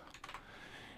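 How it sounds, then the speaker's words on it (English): A few soft, quick key clicks from typing on a computer keyboard, faint and close, with no talk. "So let's type him and Casper Reyes."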